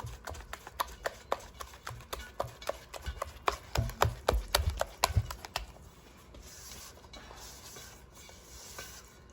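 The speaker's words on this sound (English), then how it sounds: "you're just gonna mix this until you don't see any more lumps" Chocolate and vanilla cake batter is whisked in a single bowl until smooth, with quick, regular taps and clicks against the bowl that ease into a softer, steady swish toward the end.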